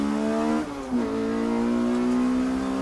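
Modified BMW race car of roughly 400 horsepower on the Snetterton circuit, its engine holding a steady loud drone, briefly dipping around the one-second mark and then droning on at a constant pitch, with no talk.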